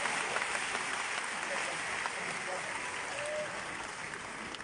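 An audience applauds Ivorian football at a talk event, a steady wash of clapping from many hands lasting several seconds at moderate volume, with voices faintly mixed in.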